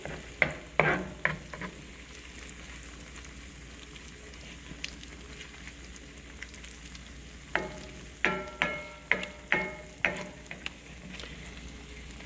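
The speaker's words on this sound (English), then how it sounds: "Just keep moving the meat around." Sausage meat sizzles steadily in a frying pan while a utensil scrapes and taps against the pan in quick rhythmic bursts, close up, with no talking.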